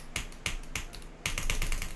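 A computer mouse is clicked rapidly during a video game, a string of sharp, close clicks in quick bursts with short gaps between them.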